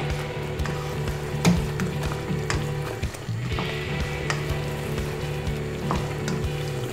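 Chicken sweet chili meatballs in a cornflour glaze sizzle steadily in a hot pan while being stirred, with a constant close frying hiss and repeated soft scraping strokes.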